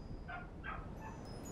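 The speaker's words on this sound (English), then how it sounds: "Oh, hear dogs outside." Dogs bark outside a house in the stealth game Hitman 2, two or three short barks or yips heard at a distance and fairly faint over a steady background hum.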